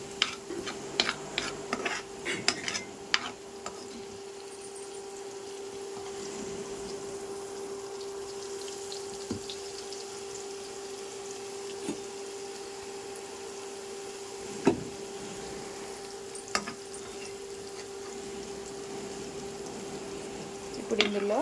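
Grated amaranth leaves frying in oil in a pan: a low, continuous sizzle under a steady hum, broken by occasional clicks and stirring scrapes, close and quiet.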